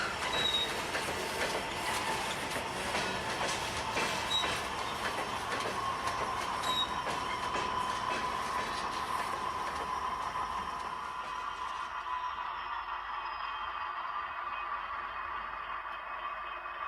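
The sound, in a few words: HO scale model coal train braking to a stop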